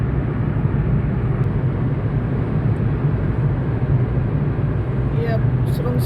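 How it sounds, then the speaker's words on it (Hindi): A train rumbling through a long tunnel, producing a loud, continuous low roar with steady mechanical droning and no break, while someone speaks faintly toward the end. "ये अब सुरंग से गाड़ी निकल आई है।"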